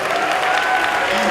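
Wedding guests give a long-married couple a sustained round of applause, a dense, steady wash of clapping that fills the room with no pauses.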